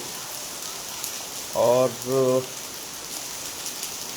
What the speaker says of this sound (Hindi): हमारे गांव में आज सुबह सुबह से बारिश हो रही है।